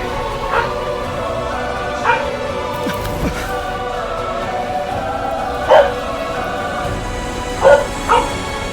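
Several pet dogs in a home bark and yip in short bursts, scattered irregularly with a few whimpers in between and a quieter background behind them.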